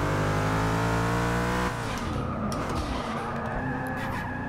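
Race cars, including a Mercedes-Benz, in Forza Motorsport 6: a loud, high-revving engine whines steadily, then breaks into harsh tire skidding and scraping with the engine still droning underneath.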